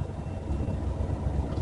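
Inside the cab of a semi truck slowing to a stop with the clutch held down: a steady low engine rumble and drone runs throughout at an even level, with no talk.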